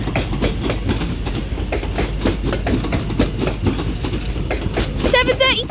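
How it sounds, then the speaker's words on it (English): A London Northwestern Railway train departs Crewe station on the West Coast Main Line with loud steady rumble and rhythmic wheel clatter, a brief squeal near the end, and a voice faintly underneath. "Is going to be the 1119 London North Western Railway service to Birmingham New Street."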